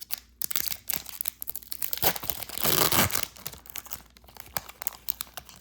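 A foil-wrapped 1992 Fleer Ultra Series 1 baseball card pack is ripped open up close. Crinkling and crackling foil build to a loud, sustained tear in the middle, then quieter rustles and crinkles follow.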